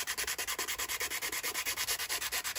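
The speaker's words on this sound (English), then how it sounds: "it's time for more sanding." Rhythmic back-and-forth sanding on an alloy wheel from a Mk6 Fiesta ST150 being scuffed before paint, with steady close strokes repeating about eight times per second and no talking.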